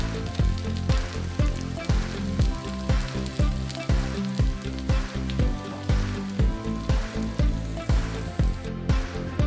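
Semolina appe fry in desi ghee in an appe pan, giving a dense, continuous sizzle with crackling pops and a faint repeating tapping, close and steady throughout with no voices.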